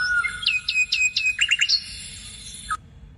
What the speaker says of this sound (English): I changed where in that long bird sound it selects from